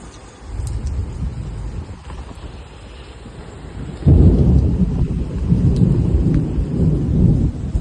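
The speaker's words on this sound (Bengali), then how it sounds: "প্রচন্ড বৃষ্টি হচ্ছে সকাল থেকে" Heavy morning rain pours down at the Mandarmani seaside, with deep rolling thunder that swells loudly midway and gusts of wind buffeting the microphone.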